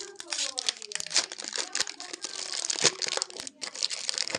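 The plastic wrapper of a Dubai-style chocolate bar crinkles and crackles close up as it is torn open, with a voice speaking faintly under the rustling.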